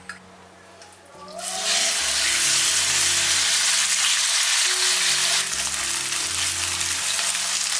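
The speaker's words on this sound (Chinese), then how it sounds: "现在我们可以来起锅热油煎鸡腿肉了" Marinated chicken thigh pieces hit hot oil in a pan after a quiet moment, then a loud, steady sizzle and crackle of frying continues throughout.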